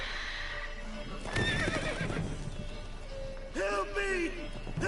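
Roach, a horse in The Witcher 3 video game, whinnies in two bursts with hoof clip-clops, mixed with game speech and a background score.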